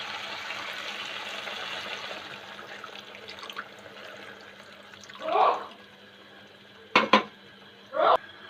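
Water poured into a pan of cooked chicken kofta curry masala: several short splashing bursts over a quiet kitchen hum, followed by light clatters of the pan and utensils, close by and without talking.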